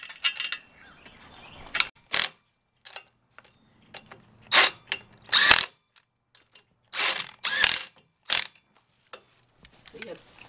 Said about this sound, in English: So you had four bolts you torqued down.